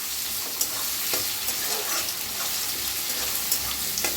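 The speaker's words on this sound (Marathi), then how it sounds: "तर कांदा चांगलासा भाजून घेऊया।" Onion frying in a pan, a loud continuous sizzle close by with faint stirring knocks scattered through it.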